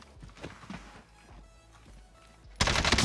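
In the Warzone video game, faint footsteps and soft thuds give way to a sudden loud burst of rapid gunfire that continues to the end.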